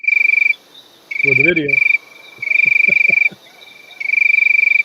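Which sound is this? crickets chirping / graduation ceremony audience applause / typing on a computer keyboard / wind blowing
crickets chirping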